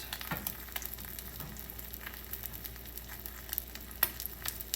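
Chicken cutlet, coated in flour and egg, frying in a hot pan: a steady close sizzle with scattered crackles and a few sharper pops, no talking.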